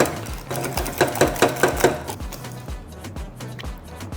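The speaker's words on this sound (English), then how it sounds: "Just giving this a nice whisk." Creamy mashed potato being whisked by hand in a bowl, a close run of quick, rhythmic strokes that fade to lighter, softer beats toward the end.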